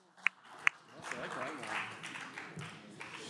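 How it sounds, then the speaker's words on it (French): Brief applause from an audience at a live general-knowledge quiz podcast in Paris, starting after two sharp isolated claps and building into soft, fairly distant clapping with voices talking over it. "Il faut l'applaudir."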